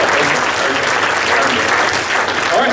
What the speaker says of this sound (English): Let's give Scott another big round of applause.